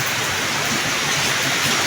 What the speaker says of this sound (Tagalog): Dito tumutulo pa yung aming bahay, guys.